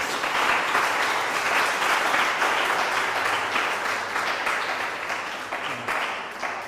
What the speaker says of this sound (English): Friends, can we give ourselves a round of applause?